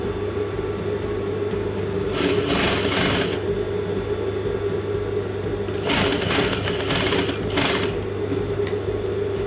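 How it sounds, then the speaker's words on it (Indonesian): Sewing machine running steadily while basting the pocket of a suit jacket, a continuous close mechanical whir with brief bursts of faster stitching partway through, no talking. "Ini langkah pertama, jahit kasar."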